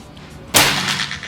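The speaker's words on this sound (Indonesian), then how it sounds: "Selanjutnya tembakan yang kedua buat tes akurasi yang pertama." One sharp, close shot from a PCP double-plenum air rifle cracks out abruptly after a brief quiet, followed by a short fading tail.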